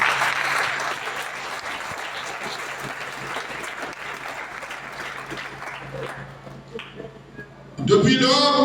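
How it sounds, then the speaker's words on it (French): Warm applause from a Pentecostal church congregation at an anniversary service, a dense, steady wash of clapping that fades toward the end before a brief louder burst. "applaudissements."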